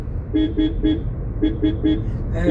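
A vehicle horn toots in quick repeated bursts, three short honks, a pause, then four more over a low engine rumble.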